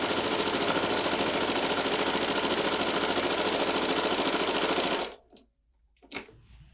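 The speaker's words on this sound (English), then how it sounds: "So now I'm gonna go ahead and sew them together with 1/4 inch of seam allowance." A sewing machine stitches fabric pieces together for a scrappy pot holder, running in a steady, fast, even whir for about five seconds before stopping abruptly, followed by a couple of faint handling clicks.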